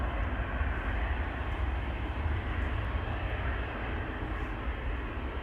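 A KLM jet departing Amsterdam Schiphol Airport roars with a loud, continuous broadband engine rush that holds steady throughout, with no voices over it.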